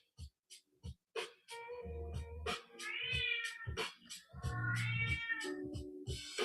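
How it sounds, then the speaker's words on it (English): A house cat meows several times in a quiet indoor room during a painting session, with short repeated calls and some longer drawn-out caterwauling cries close to the listener. "Don't mind my cat in the background"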